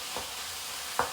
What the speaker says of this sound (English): Finally, we're getting a sizzle.